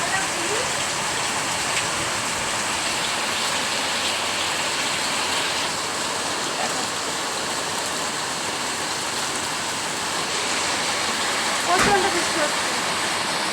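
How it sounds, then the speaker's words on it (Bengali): Heavy rain pours down in a steady, dense hiss that stays constant throughout, with one brief louder splash near the end. "প্রচণ্ড বৃষ্টি হচ্ছে প্রচণ্ড"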